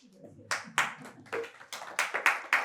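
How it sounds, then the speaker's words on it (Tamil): A small audience at a Tamil Sunday church service claps for Joseph, a handful of sharp, uneven handclaps close by, fairly quiet, with a brief voice at the start. "அதை விட ஜோசேப்பு கைத்தட்டுங்க."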